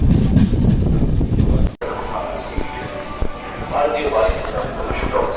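The Mandor Superfast train, in sleeper class, pulls into Gurgaon station. A loud rolling rumble and clatter drops off suddenly into quieter platform noise with scattered clanks, while someone talks throughout.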